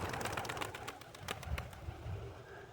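Pigeons at a pigeon show give soft, low cooing calls amid faint background rustling and chatter, quiet and somewhat distant.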